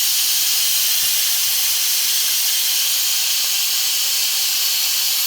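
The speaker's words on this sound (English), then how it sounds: "Now use something cut the valve with, so as you can see lots of hot steam comes out." Hot steam rushes steadily from the released valve of a Pressure King Pro pressure cooker, a loud, unbroken hiss with no pauses and no talking.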